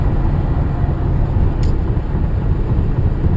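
Steady road rumble and rushing wind noise from a vehicle passing a truck on the highway, a constant loud drone with a faint brief high whine midway.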